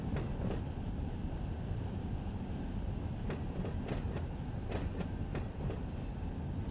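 A freight train hauling tanker cars slows in Run 8 Train Simulator on a California route near Fresno and Modesto, a steady rumble with clickety-clack wheel beats and occasional sharp clanks, loud and continuous.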